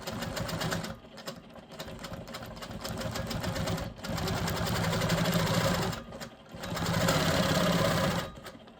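A sewing machine quilts along curved lines on a fabric bag panel, its rapid mechanical whirring running close and loud in long bursts separated by brief pauses.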